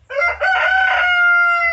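A pet rooster crows loudly and close by, one full cock-a-doodle-doo that begins with a few choppy notes and ends in a long sustained call, heard alone without voices.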